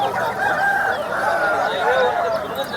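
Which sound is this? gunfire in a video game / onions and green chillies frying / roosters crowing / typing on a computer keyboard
roosters crowing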